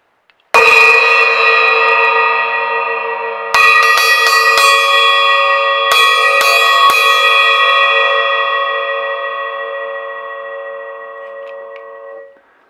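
A crash cymbal cut down into a mini hi-hat is struck three times, each hit ringing out loud and bell-like with a long bright sustain that slowly decays, with no talk.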